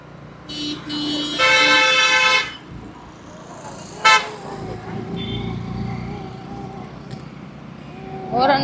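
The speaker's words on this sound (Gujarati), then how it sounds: "હોરન તો એટલા મારે ને આપણા કાન દુખવા મળે" Car horns blare in a crowded city street at night, with long overlapping honks early on, then a lighter toot amid steady traffic rumble and faint background voices.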